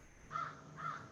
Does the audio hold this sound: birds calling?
yes